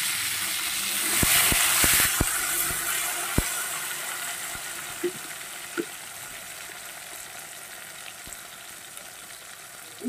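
Tomatoes fry in a pan for a shol fish curry, a steady, close sizzle and hiss with a few scattered sharp pops and crackles that fade slightly over time, with no talk.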